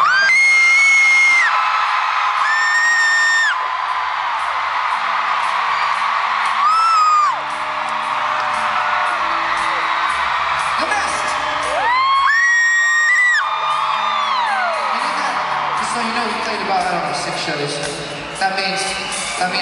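A concert crowd screaming and cheering in Montreal: loud, sustained roar with high whoops and shrieks rising in waves, while someone talks to the audience over it.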